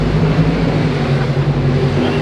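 A car nicknamed the Bad Apple runs its engine with a loud, steady low rumble that holds evenly throughout, with no voices over it.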